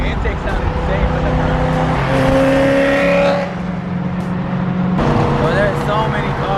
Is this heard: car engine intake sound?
yes